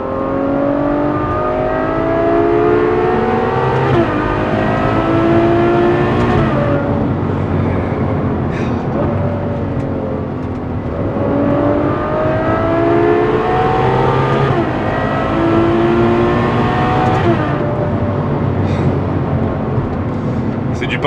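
V12-engined car revving and accelerating hard, loud and close, its howl rising in repeated sweeps through several gear changes for about twenty seconds.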